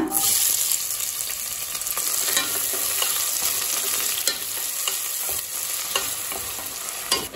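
Onions fry in sesame oil with cinnamon, cloves, cardamom, fennel and curry leaves while a spoon stirs them, giving a loud, steady sizzle broken by scraping strokes in the pan.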